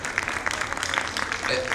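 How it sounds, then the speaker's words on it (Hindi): An audience at a Hindi Diwas celebration in Singapore applauds a children's performance, steady dense clapping at moderate level with voices mingled underneath. "बच्चों का हौसला बढ़ाइए और दिल खोल कर तालियां बजाइए"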